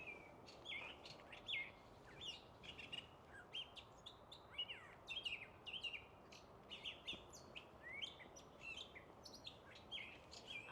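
Birds chirp and tweet in a steady scatter of short, bright calls along a hiking trail on a morning in nature, several voices overlapping at close to moderate distance over a soft outdoor hush, with no talking.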